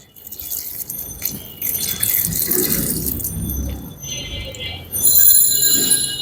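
Dirty, sandy water drains out of a car radiator in a steady close splashing gush that swells louder near the end, with no talking.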